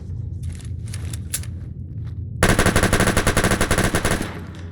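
A Chinese stealth pistol fitted with a muzzle brake fires in Fallout 4, a dense rapid string of about fifteen loud, evenly spaced shots that begins abruptly after a quieter stretch of scattered clicks.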